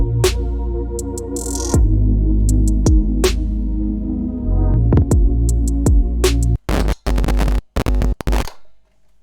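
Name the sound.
bass in a dark R&B beat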